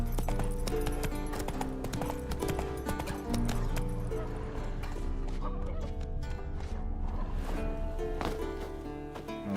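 Roach the horse galloping in The Witcher 3, rapid rhythmic hoofbeats driving along under a dense game soundscape of music and ambient effects, loud and continuous throughout.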